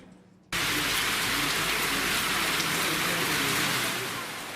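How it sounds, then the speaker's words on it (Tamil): Heavy rain pouring down around Pandalur in the Nilgiris, a dense, loud, steady hiss that starts abruptly after a brief quiet moment and continues evenly to the end. "பந்தலூர் சுற்றுவட்டார பகுதிகளில் கனமழை பெய்தது."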